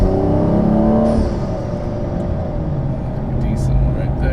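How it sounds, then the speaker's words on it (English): Inside the cabin of a BMW 435i xDrive fitted with a CTS turbo intake, in sport mode on a smooth, newly paved road, a loud, steady engine and intake drone fills the space, easing slightly midway. "we're in the cabin, so you can hear the intake."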